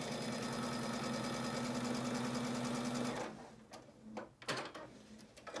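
Quilt blocks for a four point star are chain pieced on a domestic sewing machine, which runs in a steady, fast, continuous whir for about three seconds. It then stops, leaving a few soft handling clicks and bumps close by.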